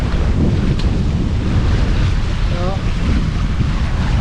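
Steady wind rushes across the microphone with the wash of the sea around a sailboat running under sail with the engine off in 16 knots of wind, a constant loud broadband roar with no engine.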